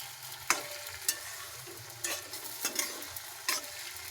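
Okra curry being stirred in a pan after a few drops of lemon juice, with a soft steady sizzle broken by several sharp spatula scrapes and knocks at irregular intervals.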